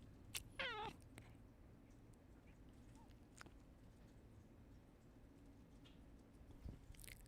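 A single short meow from a pet cat named Clinton near the start, then a quiet room with faint low hum and soft scattered noises.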